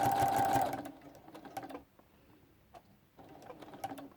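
Sewing machine stitching in bursts while echo quilting inside hexagon shapes, a loud run at the start, then shorter rapid runs separated by brief pauses, close and alone.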